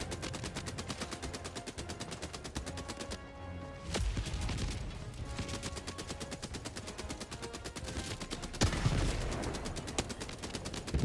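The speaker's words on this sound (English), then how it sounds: "does the HMG emplacement sound a bit less meaty than it did before?" Heavy machine gun emplacement in Helldivers 2 firing long, rapid sustained bursts, a steady stream of loud shots with occasional heavier impacts and explosions layered in, nearly continuous from start to finish.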